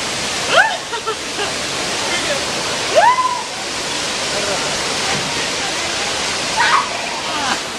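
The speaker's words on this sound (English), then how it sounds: "see what's underneath that waterfall over there" Steady roar of a waterfall fills the scene as a broad, continuous rush, with a few bird chirps cutting through and no talk over it.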